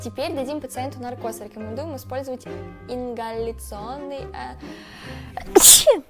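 Someone talks steadily in Russian, then lets out one loud, sharp sneeze close to the microphone right at the end.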